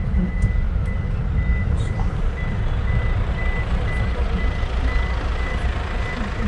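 A truck's reversing alarm beeps repeatedly at a steady rhythm over low vehicle engine rumble on a street, moderately near, with no speech.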